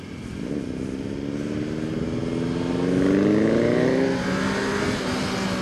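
Superbikes, among them a Suzuki Hayabusa, Kawasaki ZX-10R and Ninja 1000, rev in the cold hills at dusk, their engine notes climbing and swelling to a peak before easing off, moderately distant and unbroken by talk.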